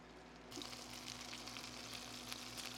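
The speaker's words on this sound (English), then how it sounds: "I'm just gonna get those fried up" Low carb mozzarella sticks frying in oil inside a truck, a steady close crackling sizzle that starts abruptly and continues evenly with small pops, with no talking.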